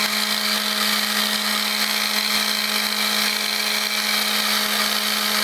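An orbital sander works a balsa wood CO2 dragster body, giving a steady, loud, continuous whirring drone with a constant hum that holds for the whole stretch.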